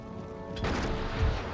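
Mortar fire in the strategy game Total War: Empire, a dull boom bursting in partway through over a steady battlefield din, followed by a rumbling low thud near the end.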